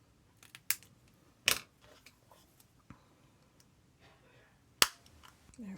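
Sharp snips from scissors or clippers trimming a miniature chair piece, a few isolated clicks spread out with quiet gaps between them, close and crisp.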